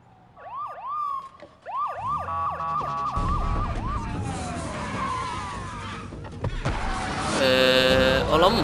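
Police car sirens wail in the Need for Speed Undercover video game as cops chase a stolen R35, rising and falling loudly over engine roar and tire skids, with a burst of crashing and chaotic noise near the end.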